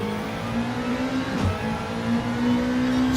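Mitsubishi race cars roaring through a driving-park circuit in a racing video game, a steady loud engine drone with a sustained whine and a brief throttle swell midway.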